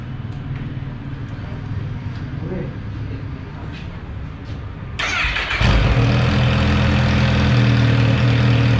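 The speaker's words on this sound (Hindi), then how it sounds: "एक बार स्टार्ट कर लेते हैं फिर से।" A Kawasaki H2 motorcycle is cranked and fired up after an ECU flash. A near, loud engine catches about halfway through and settles into a steady idle, with a low hum in the background before it starts.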